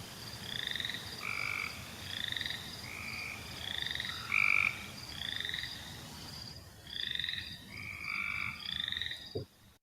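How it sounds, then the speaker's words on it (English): Cope's gray tree frogs in a marsh give short, buzzy burring trills, repeated in a steady rhythm at moderate distance over a constant low hiss, with a brief thump at the end. "that kind of buzzy kind of burr of your Cope's gray tree frog"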